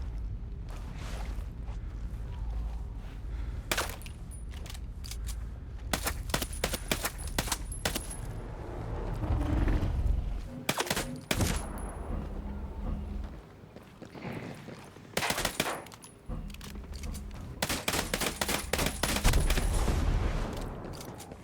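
Gunfire in the video game Ghost Recon Breakpoint, scattered sharp shots and short bursts over a continuous low rumbling background, some shots close and loud, others distant.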